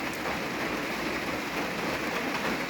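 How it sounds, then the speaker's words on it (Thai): Steady rain pours down in the rural Lao countryside, a dense, even hiss of drops on surfaces that never lets up. "ฝนตกนี่"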